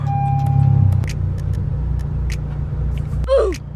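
Honda Civic 9th gen car on a test drive, a steady low engine and road rumble throughout, briefly louder near the start, with a short squeaky chirp near the end.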